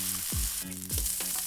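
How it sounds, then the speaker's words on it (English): Onions and ground beef sizzle steadily in a hot pan, a constant frying hiss broken by a few scraping stirs of a utensil. "Then add the onions to the pan."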